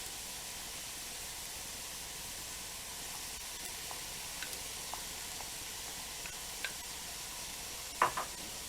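Red and green peppers sizzle steadily in a pan for vegetarian chili, a soft continuous frying hiss with a few light clicks of stirring and one sharper scrape near the end.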